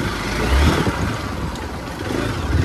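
Motorcycle engine droning steadily while riding over a rough, potholed road, loud and close with low rumbling and some roughness, no talking.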